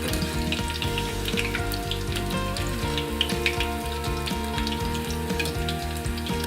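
Banana flower bhaji fry in oil, a continuous bubbling sizzle layered over a loud, steady background of pitched music or hum, with no one speaking.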